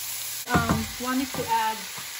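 Beef and tomato sizzling in a pan for kaldereta, a short burst of crackling frying close by with brief bumps of stirring, with no talk.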